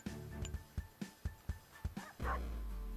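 A pug in the video game Turbo Pug gives a series of short, evenly spaced yips and barks over a steady game soundtrack, ending in a brighter blip.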